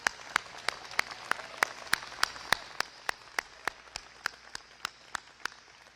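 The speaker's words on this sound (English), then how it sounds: "Let's give them all a big round of applause." An audience applauds at a government event with Illinois Gov. JB Pritzker, heard as a steady series of sharp, evenly spaced claps that stay moderately loud and close without voices.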